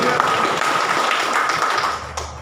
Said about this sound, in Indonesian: Berikan sekali kita tepuk tangan bagi Tuhan